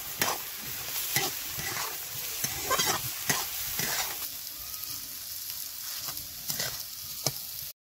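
Spiced cauliflower filling for paratha sizzling steadily in a pan, with a spatula scraping and stirring in irregular strokes close up, no voices.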